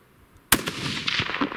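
A single sharp gunshot from a hunting rifle fired at a bear in the Wyoming outdoors, a loud close crack followed by a rolling echo and rustling.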